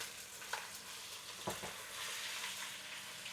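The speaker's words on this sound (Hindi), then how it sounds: "ये मसाले के साथ अब इसकी भुनाई कर लेंगे।" Coriander and spices being stir-fried in a pan for chicken curry: a steady, quiet sizzle with a couple of soft stirring scrapes.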